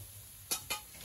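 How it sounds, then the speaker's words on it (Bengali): Dal being stirred and mashed in a pan, two quick scraping strokes close by against a quiet background, with no one speaking. "এইবার এটাকে ঘুটে নেওয়া হবে।"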